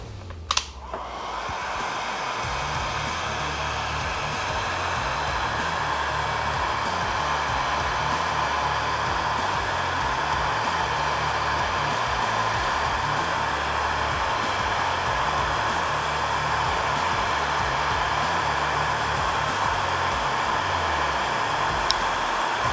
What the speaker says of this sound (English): this type of marine shrink tubing, what we want to do is actually use a heat gun.